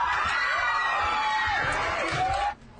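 A crowd in a Los Angeles courtroom bursts into cheers and applause after a not-guilty verdict, a dense, excited roar of voices and clapping that stops abruptly near the end.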